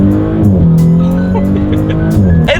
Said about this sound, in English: just a quick acceleration, see how quickly we can get the 2018 S4 here up to speed